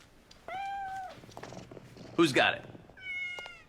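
A cat gives several clear, drawn-out meows, close and loud, with a brief burst of noise between them and a person speaking a short question.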